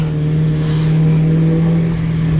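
Steady engine drone of a 1999–2004 Ford Mustang GT at low revs, a constant rumble with a strong low hum throughout, close and fairly loud.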